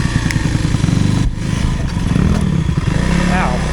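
Kawasaki KLX300R four-stroke dirt bike engine running steadily while being ridden, a loud close rumble with a brief dip in the middle, under constant wind noise.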